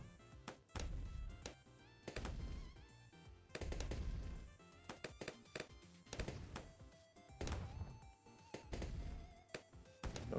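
Cannon fire from a Bloons TD 6 tower, heard as dense bursts of rapid booming shots that repeat in clusters over busy game sound, loud and constant with no talking.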